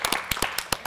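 Students clap together on a school quiz show between two Baghdad schools: a quick run of about seven sharp, loud, close claps in under a second, with no talking.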